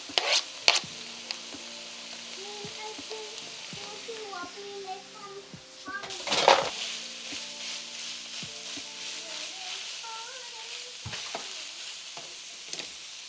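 Garlic and ginger sizzling in a pan while being stir-fried for a beef and udon noodle dish, a steady soft frying hiss with utensil clinks and scrapes, and children's voices in the background.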